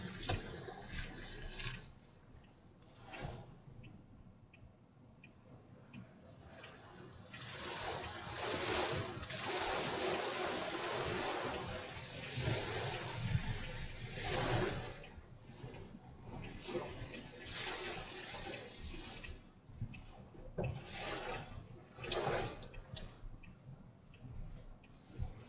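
Choppy, wind-driven water during a hurricane landfall, surging and splashing in uneven waves with gusty rushes, heard at moderate level with faint background voices at times.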